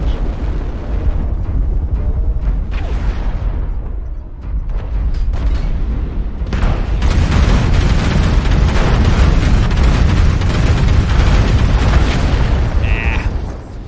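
Weapons fire hitting a player's mech in MechWarrior Online: loud, continuous explosions and booming impacts, building into a dense roar of blasts in the second half, with a voice speaking over parts of it.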